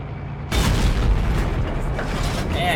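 An E-100 tank's main gun firing at another tank's headlight in a tank video game, a heavy sudden boom that swells into a long rumbling roar over a low engine hum, with no talk.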